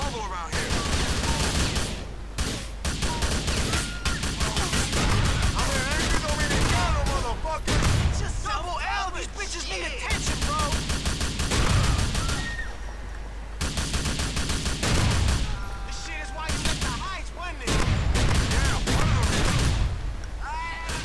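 Gunfire in the video game Grand Theft Auto IV, loud repeated bursts of automatic fire and shots in fusillades with short pauses between, with a voice occasionally heard under the shooting.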